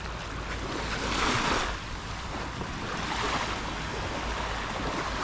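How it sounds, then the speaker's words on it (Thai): Ocean waves at Pranburi, Thailand, wash in and roll out in a continuous steady roar, with surges swelling every few seconds and a faint wind rumble underneath. "นั่งฟังเสียงคลื่นครับทุกคน"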